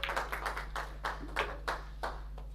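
Scattered hands clapping from a small audience at a pool tournament, several distinct claps in an uneven rhythm over a constant low electrical hum, with no talk.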